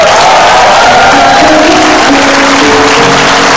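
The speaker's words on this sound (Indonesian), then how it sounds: "Tepuk tangan buat Sandy Aulia." Studio audience on a TV show applauding and cheering for a guest, very loud and continuous, with a musical tone sounding beneath the crowd noise.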